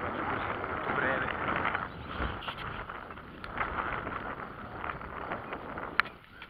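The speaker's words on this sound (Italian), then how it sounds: "Poi c'è il vento." Wind buffets the microphone in a steady gusty roar across an open upland meadow, with faint distant voices beneath it.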